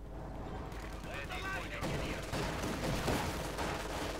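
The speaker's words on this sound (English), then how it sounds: "auto cannon firing at the combat engineers" Auto cannon fire in the World War II strategy video game Company of Heroes 2, a dense stretch of rapid booming shots and battle noise mixed under a commentator's talking.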